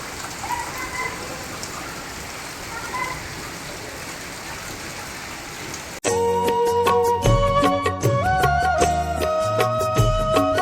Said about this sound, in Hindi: आ गई अब तगड़ी बारिश।